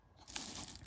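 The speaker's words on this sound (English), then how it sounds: "They're dried edamame. They're really tasty. They have a nice saltiness to them and super, super crunchy." A single brief, faint crunch of dry roasted edamame being bitten and chewed, close to the ear, with no talk over it.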